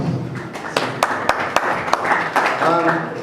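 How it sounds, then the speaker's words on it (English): An audience at a conference on recovering stolen assets gives scattered applause, with a few sharp distinct claps standing out over a murmur of voices and a speaker beginning to talk near the end. "So clap to the audience."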